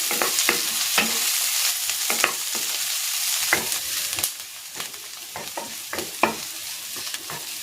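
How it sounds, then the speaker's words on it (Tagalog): Garlic and onion sautéing in hot oil in a pan for pork rib sinigang, with a steady close sizzle broken by repeated scraping stir strokes throughout and no voices. "Igigisa ko na tong bawang."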